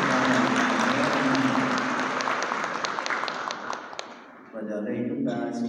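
Congregation applause fills a parish church at a Eucharistic adoration celebration, a dense steady clatter of many hands that thins and fades toward the end before voices and a low tone return.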